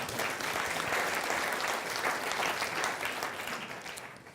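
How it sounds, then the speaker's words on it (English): A round of applause fills a room, steady dense clapping from a group that holds for several seconds before tapering slightly. "I give him a round of applause for that"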